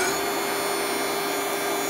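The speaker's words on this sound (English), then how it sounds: "This is how quickly it spools up" A CNC 6040 router spindle runs up to speed as a steady, high whine with a constant hum, close and unbroken, with no voices.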